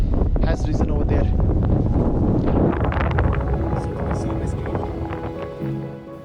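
Strong wind buffets the microphone at a night mountain campsite among small tents in Singalila National Park, a loud, steady roar with gusting rumble throughout, and a voice speaks faintly beneath it.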